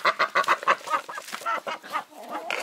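Backyard chickens cluck and squawk in a rapid run of short, close calls that loosen into softer, scattered clucks, with no one talking over them.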